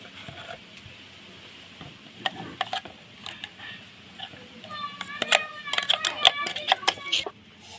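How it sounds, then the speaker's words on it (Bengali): Rice and lentil paste mixed with thankuni leaf paste for fritters makes soft wet slapping and clicking as it is worked by hand, with a voice audible in the background toward the end. "চাল আর ডাল একসাথে পেস্ট করে নিয়েছি, সব একসাথে মিশিয়ে দেবো"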